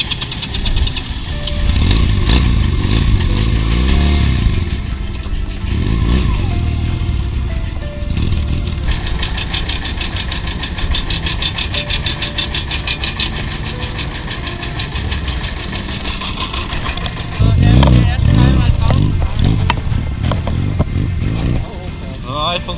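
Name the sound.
Honda XR 150 motorcycle revving onto a ferry ramp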